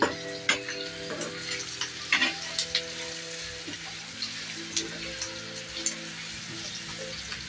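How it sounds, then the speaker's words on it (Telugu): Green chillies fry in oil in a pan for lemon rice, a dense crackling sizzle with spattering pops and stirring scrapes, close and continuous, while a steady tonal hum sits underneath and no one speaks. "చూడండి బాగా ఫ్రై అయిపోయాయి కదా పచ్చిమిర్చి అన్నీ ఫ్రై అయ్యాయి చూడండి"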